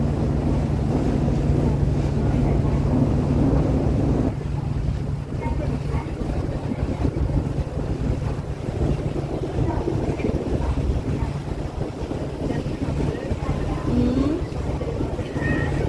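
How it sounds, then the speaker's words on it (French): Rushing sea and wind noise buffeting the microphone aboard a ferry crossing to Miyajima, Japan, a continuous roar with a faint engine hum underneath. "Du coup vous avez le bruit de la mer."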